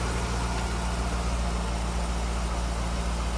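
A 2004 Chevrolet Corvette's 5.7-liter LS1 V8 idles with a steady low rumble and even, throbbing hum, unchanging and close by.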